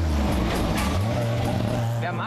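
A 1966 Matra Djet 6, a race-bred two-seater with a 105-horsepower engine, drones steadily while driving, its low engine tone loud and continuous with a rising pitch, a voice speaking over it.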